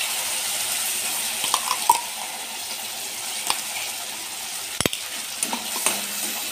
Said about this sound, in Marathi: आता यामध्ये मी हे टोमॅटो, बीट आणि लाल तिखट वाटून घेतलं होतं ते टाकणार आहे।